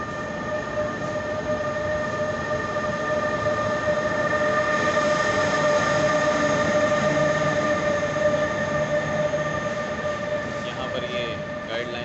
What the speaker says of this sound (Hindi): और ये ट्रेन जो आई थी वो जा रही है।